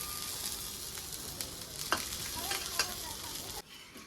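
Oil sizzles and crackles steadily on a hot griddle under a semolina-gram flour dosa, with a few scraping clicks, then the sizzle drops off abruptly near the end.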